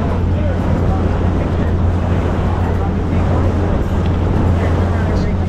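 A tour boat heading out to Beqa Reef off Suva, Fiji, runs steadily across open water, its engine a constant low drone mixed with rushing wind buffeting the microphone throughout.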